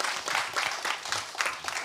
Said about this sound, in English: can I get a big round of applause for the YMCA, please?